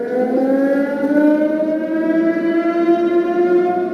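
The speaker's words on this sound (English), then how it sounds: "and then the alarm sounded" A civil defense alarm siren wails steadily at a commune, its strong sustained tone rising slowly in pitch, loud and continuous with no voices.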